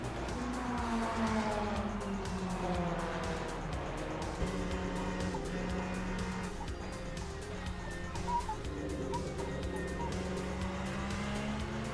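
Ferrari GTE race car in a Le Mans racing video game, engine droning and shifting pitch steadily through gears, with brief tire squeal, continuous and fairly loud throughout.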